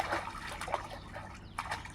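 Child swimming and pushing water back in a pool, with soft sloshing and trickling splashes in short uneven bursts, faint and close, with no voices over them.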